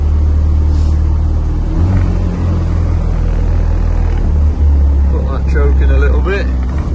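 A 1980 Austin Morris Mini 95 runs after a cold start with a loud, steady low rumble that dips slightly now and then, while someone talks over it.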